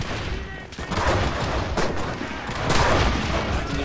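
Gunfire in the war game Enlisted: a steady, loud wash of rapid shots and distant battlefield rattle, with voices faintly under the noise.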